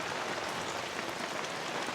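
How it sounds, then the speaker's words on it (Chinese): Heavy Florida thundershower rain pours down in a steady, dense downpour, a continuous broadband hiss with no thunder and no voices. "展示一下佛州的雷阵雨"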